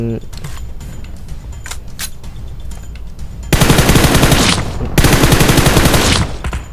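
Gunfire in the PUBG Mobile video game: scattered single shots, then two loud sustained bursts of rapid automatic fire, heard close in the game audio with no talk.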